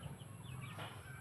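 Chickens in a garden clucking softly at a distance, a faint scattered flock murmur over steady low background hum, with no talking.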